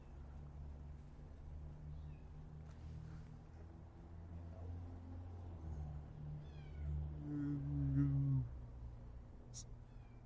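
A house cat meows inside a desert home, a few soft calls rising to a clearer, louder meow near the end over a low room hum.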